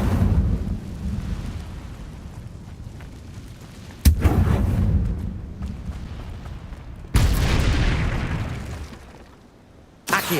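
Incendio fire spell cast in Hogwarts Legacy on PC: three loud, heavy booming bursts about three seconds apart, each tailing off into a rumbling roar, with no voices.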